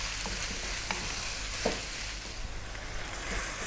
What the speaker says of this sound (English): Get this meat cooking.